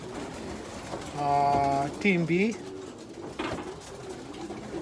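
Young 2020-season pigeons coo in a loft, a few soft rolling calls close by, with someone speaking briefly among them and a sharp tonal chirp mixed in.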